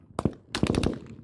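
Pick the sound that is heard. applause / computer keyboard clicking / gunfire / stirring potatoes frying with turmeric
gunfire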